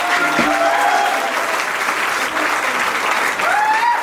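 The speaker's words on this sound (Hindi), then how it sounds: "बहुत जोरदार तालियों से सुनाइए" A loud, dense wave of audience applause welcomes a poet onstage at a Hindi comic poetry gathering, filling the space continuously with only brief dips in intensity.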